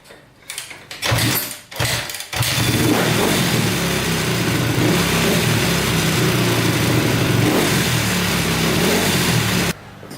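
A Honda CRF250R dirt bike engine that has been hard to start coughs and sputters a few times, then catches and runs loud and steady, revving close by, and cuts off at the end.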